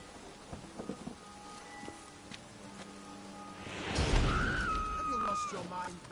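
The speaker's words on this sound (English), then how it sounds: "The rain will cleanse the city streets of filth." Rain patters steadily in The Witcher 3, and a deep thunder rumble swells midway and rolls on loudly while a tonal in-game sound rings over it.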